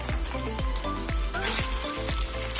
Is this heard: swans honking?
no